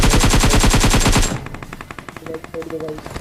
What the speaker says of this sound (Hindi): अब भाई मैं प्री फायर मार के घुसता हूँ